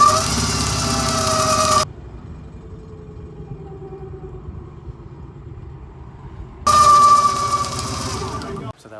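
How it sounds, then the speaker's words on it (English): A sailboat's motor on its first test run, a loud steady engine drone with rumble that cuts out for several seconds and then resumes at full strength. "That was our first motor test"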